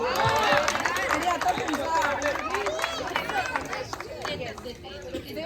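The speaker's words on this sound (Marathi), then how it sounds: "सायलीसाठी जोरदार टाळ्या" Applause and cheering from a crowd at a sangeet ceremony, a dense wash of clapping mixed with lively chatter and calls that continues steadily and tapers slightly toward the end.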